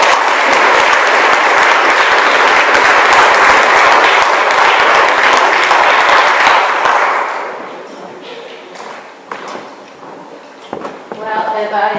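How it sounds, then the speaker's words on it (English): Audience applause at a community orientation, dense and loud for about seven seconds before tapering off into scattered claps and room noise, with a voice starting at the end. "Let's give her a round of applause."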